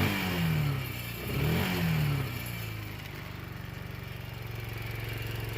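A Kawasaki Bayou 220 ATV engine revs after a carburetor adjustment, two short throttle blips rising and falling over a steady idle that keeps running, close and loud, with no talking.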